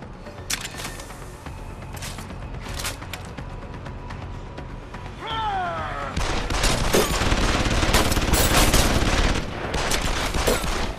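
Gunfire in Deus Ex: Human Revolution during a hostage rescue mission, sharp shots cracking out in bursts at first, then a dense, louder volley of rapid fire near the end.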